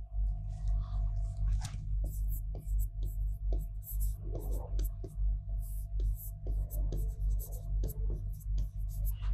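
Notes are written by hand during a history lesson on the Mughals, with intermittent scratchy strokes over a low steady hum and faint murmuring voices.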